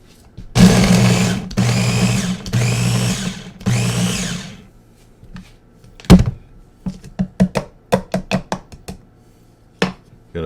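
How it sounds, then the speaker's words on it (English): Bullet blender motor chopping onions, carrots and garlic, running in three loud bursts of about a second each, followed by a series of short sharp pulses and knocks as the blades spin up and stop. "Put the bullet motor on"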